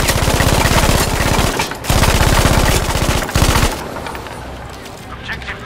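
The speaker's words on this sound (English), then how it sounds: "in the chaos, in the confusion with the LMG 200 bullets, and he's gonna get a massive multi-kill" Sustained LMG machine gun fire in Battlefield 5, loud and close, in long rapid automatic bursts with a brief break, then a sudden cutoff into quieter battlefield ambience.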